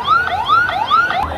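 An ambulance siren wails at the scene of a plane crash at a school in Uttara Diabari. Loud, close rising whoops repeat about every half second, with nothing else heard.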